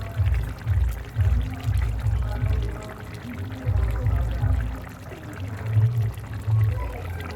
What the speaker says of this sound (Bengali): খুব বেশি জল দিইনি, এই জলগুলো মাছের মধ্যে টেনে নেবে।